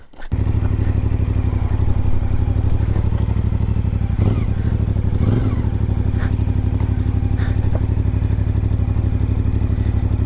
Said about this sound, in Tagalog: Tara, pasok natin yung motor natin.